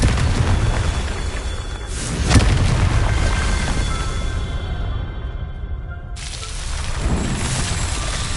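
A Confringo fire spell bursts in Hogwarts Legacy with a loud, deep boom near the start of the stretch, followed by a rumbling tail that fades before another blast rises toward the end.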